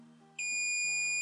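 A high electronic beep from an FNIRSI DMT-99 digital multimeter switches on and holds steadily, sharp and close, over a faint low hum.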